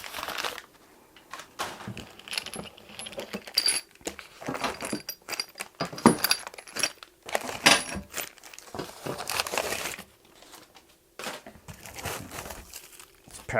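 Close crinkling and rustling of packaging with occasional tearing and small clinks of metal parts as a KMG articulating work rest is unpacked, in irregular bursts with short pauses, no talking.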